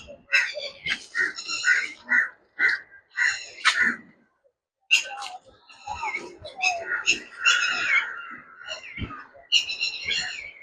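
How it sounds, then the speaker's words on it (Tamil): Wild birds calling at a lakeside nature spot, with crows cawing in repeated harsh bursts and clustered rhythmic calls, fairly close and loud, pausing briefly midway before resuming. "இயற்கையான பறவைகள் இந்த சத்தம் உங்களுக்கு கேட்கும்னு நினைக்கிறேன்."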